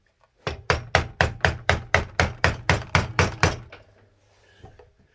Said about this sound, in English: Need to be using the metal hammer,